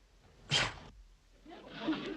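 A single sharp sneeze bursts out nearby, followed by a soft breathy exhale after a short pause.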